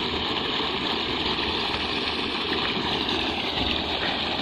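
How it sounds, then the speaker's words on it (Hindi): Borewell water gushes steadily into a farm chamber in Gujarat, India, a continuous dense rushing wash with a faint pump-like hum beneath, unbroken throughout. "बोरवेल में से सीधा यहाँ आते हैं पानी।"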